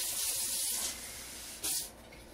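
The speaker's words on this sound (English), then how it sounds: "I'm going to add some water to this bottle" Water runs from a kitchen tap into a steak sauce bottle, a steady close splashing hiss that eases off briefly and then surges again for a short burst.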